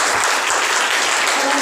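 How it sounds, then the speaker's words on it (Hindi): A hall full of people at a motivational team-building seminar in India bursts into loud, dense applause, a continuous close roar of clapping hands. "जोरदार ताली अपने लिए।"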